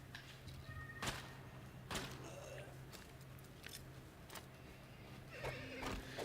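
A horse neighs in the Colt Canyon video game: a couple of whinnying bursts over a steady low game soundtrack hum, with thuds and clicks scattered through.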